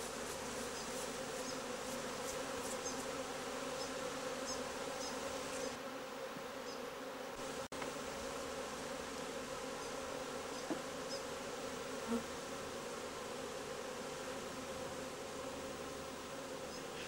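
Honey bees buzzing steadily around a hive, a dense continuous drone that is faint and even, with no speech.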